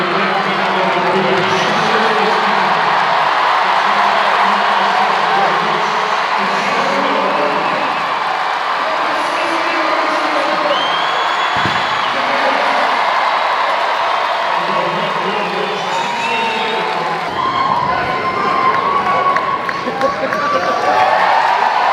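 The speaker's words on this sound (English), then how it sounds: "You deserve that round of applause, Rebecca." Dense, steady crowd roar with cheering and applause from spectators at a UK versus USA strongwoman competition, continuing loudly throughout as a commentator talks over it.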